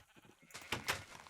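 Sheep bleating in the Minecraft video game, a short wavering bleat in two pulses after a quiet start, close and clear with no talking.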